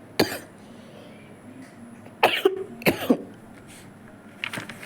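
A person coughs repeatedly, close and loud: a sharp cough near the start, then a cluster of harsh coughs and throat-clearing bursts in the middle, and a fainter cough at the end, with quiet pauses between them.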